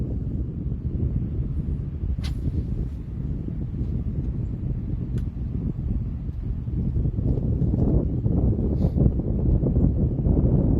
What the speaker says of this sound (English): So the wind's picked up a little bit.